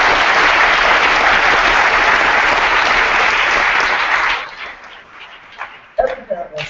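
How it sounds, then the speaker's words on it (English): Audience at a high school awards ceremony applauds loudly and steadily for over four seconds, then the clapping thins out and fades, with a few scattered claps and faint voices near the end. "for any of you that are parents that are in the audience, please let's give them a round of applause"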